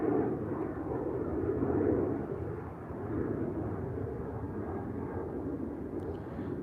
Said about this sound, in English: Oh, big plane out there. Loud.